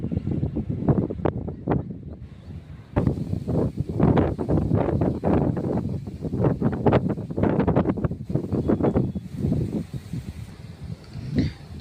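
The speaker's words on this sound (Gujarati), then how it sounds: "પવન ખાલી જાય છે." Gusty wind blowing near Shatrunjay hill at Palitana under a cloudy pre-rain sky, buffeting the microphone in steady rough bursts throughout, loud and close with no talking.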